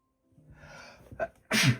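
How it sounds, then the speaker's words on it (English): A single close sneeze: a wavering breath builds up, then bursts out loud and sharp at the end. "Ooh, I gotta sneeze."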